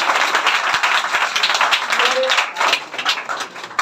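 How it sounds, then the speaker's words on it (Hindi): A crowd at a school toppers' award ceremony applauds a student topper with steady, dense clapping that rises and swells for several seconds, with voices mixed in. "सुमंत के लिए जोरदार ताली"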